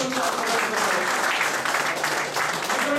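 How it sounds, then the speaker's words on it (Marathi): An audience claps loudly and steadily for about three seconds at a training session, a dense, even wash of applause with no pauses. "जोरदार टाळ्या वाजवा."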